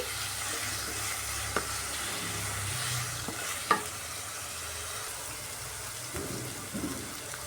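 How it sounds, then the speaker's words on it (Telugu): Salted onions fried in a pan and stirred with a spoon, a steady close sizzle broken by a few sharp clinks and scrapes of the utensil against the pan. "మిక్స్ చేసుకుని ఒక రెండు మూడు నిమిషాలు బాగా మగ్గనిద్దామండి"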